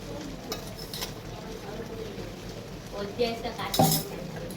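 Partly cooked chicken is stirred in a pot with ground fried spices for malai chicken, metal spoon scraping and clinking against the pot over a low sizzle, with a louder clatter near the end.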